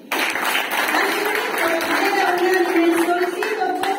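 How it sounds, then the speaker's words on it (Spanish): Crowd applause at a political rally endorsing candidates, a dense steady clapping that starts abruptly and holds for about four seconds, with voices and tonal sounds mixed in underneath. "por la cual pido un fuerte aplauso."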